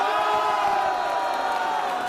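Crowd of patriotic citizens at a political rally opposing impeachment, a sustained roar of cheering and shouting from many voices, dense and continuous at a distance.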